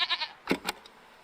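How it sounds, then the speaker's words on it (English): Goat-like creatures in a video game bleat, with a wavering call followed by two short bleats, clear and fairly near against a quiet background. "What are these strange goat-like creatures?"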